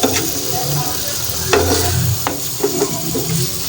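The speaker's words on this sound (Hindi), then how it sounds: "तवे के ऊपर अच्छे तरीके से मटन का कीमा जो है वो बनाएंगे" Mutton keema sizzles and fries on a hot tawa, a steady close crackle broken by sharper scraping and stirring strokes at irregular intervals, with no talking.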